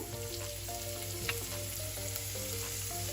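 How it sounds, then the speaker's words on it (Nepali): Potatoes fry in a pan as finely chopped ginger is added, giving a constant, even sizzle close by with no voices. "अब यतिको भुटिएपछि आलुमा मैले 1 टेबल स्पुन मसिनो गरेर अदुवा काटेको थिएँ, त्यसलाई राख्दैछु"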